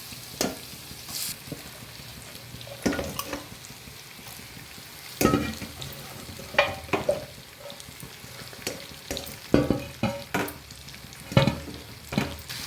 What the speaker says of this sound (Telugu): ఇప్పుడు ఫిష్ వేసుకుందాం. ఫిష్ కూడా మంచి రోస్ట్ కావాలి.